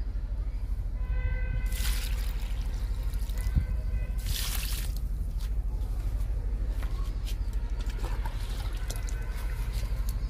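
Liquid fertilizer made from papaya peels soaked for two or three days is poured onto a Barbados cherry plant, giving a soft steady trickle with a few brighter splashes, faint and close, with no talk.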